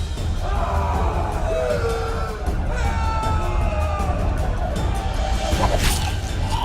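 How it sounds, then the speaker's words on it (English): A raging riot crowd in a grim fantasy city, massed voices bellowing, yelling and screaming in a dense, continuous roar with sharper shouts rising over the din. "A riot erupts. A massacre ensues."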